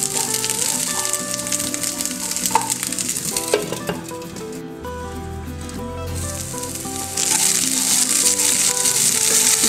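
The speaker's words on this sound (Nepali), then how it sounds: "केराउ लगभग भुटिसकेको छ" Green peas frying in a little hot oil while being stirred in a pan, a steady close sizzle with scraping and rattling against the metal, and no talking.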